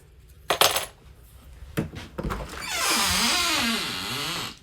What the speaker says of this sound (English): Keys here, there's two.